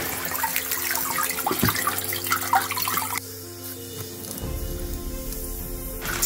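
Tap water runs and splashes steadily into a sink while liver is washed, then cuts off, leaving quieter dripping and handling sounds.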